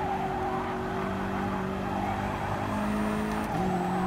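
Car oversteering in Gran Turismo Sport with a steady, loud engine drone and sustained tyre squeal running alone throughout, pitch dipping briefly near the end.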